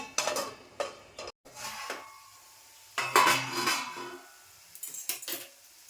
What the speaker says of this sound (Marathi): एक मिनिटासाठी मी आता ना झाकण लावून ठेवते